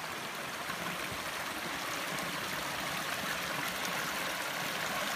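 A small, clear river stream in a rural village in southern Cianjur flows with a steady, close rush of water that stays constant throughout.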